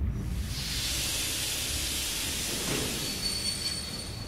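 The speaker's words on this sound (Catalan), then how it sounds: "El so eixordador de les rodes que frenen m'arriba de lluny." Train wheels screech under braking at a distance, a steady shrill metallic squeal over a low rolling rumble and hiss. The sound holds constant throughout with no voices.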